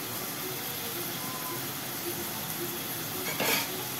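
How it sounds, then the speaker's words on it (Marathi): Finely chopped tomato frying with onion and curry leaves in a pan gives a soft, steady hiss, with a brief louder scrape or stir near the end. "बारीक चिरलेला टोमॅटो ॲड केलेला आहे आणि तो चांगला परतून घ्यायचा आहे आपल्याला लाल होईपर्यंत"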